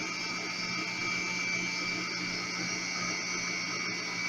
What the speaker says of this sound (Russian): Миксер работает на скорости 2/3 от максимальной.